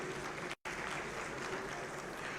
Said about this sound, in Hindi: एक बार फिर से मंचासीन अतिथियों के लिए हम जोरदार तालियां आप सबकी तरफ से चाहेंगे।